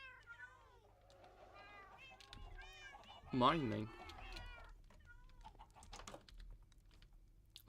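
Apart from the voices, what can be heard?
cats meowing in Minecraft video game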